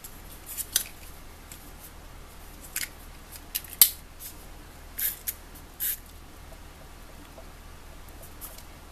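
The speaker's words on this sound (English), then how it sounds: "Let's just run some tape runner here." A tape runner applies adhesive tape in a junk journal, giving a few quiet, brief crackling clicks and zips scattered across an otherwise hushed tabletop scene.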